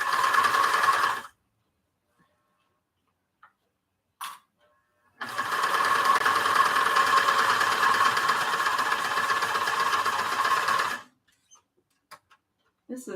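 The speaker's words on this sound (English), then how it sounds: "This is my sewing machine I got for graduating high school" A sewing machine runs in two bursts, a short one and then a long steady stretch of several seconds, loud and close, with silence between.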